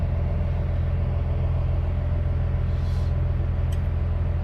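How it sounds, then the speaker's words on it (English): The blower motor of a diesel King Ranch truck hums steadily, with air rushing through the cab vents under a low, even engine rumble. It stays constant throughout, with a faint brief click near the end. "We got a blower motor. We have air coming through."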